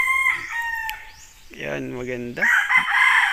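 A gamefarm broodcock rooster lets out one loud, drawn-out crow in the middle, with people speaking nearby before and after it.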